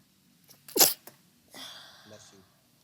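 One sharp, loud sneeze from an allergy sufferer in a quiet room, followed by brief voices speaking softly afterward.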